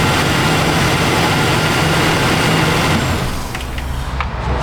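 A Ford Ranger engine with a failed DPFE sensor idles steadily with a low, continuous rumble and hum, close and fairly loud, easing slightly near the end.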